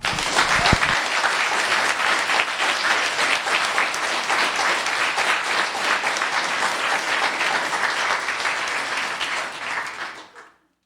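Sustained, dense applause fills a town council meeting honoring a staff member's retirement after nearly 40 years of public service, steady and close for about ten seconds before fading out at the end.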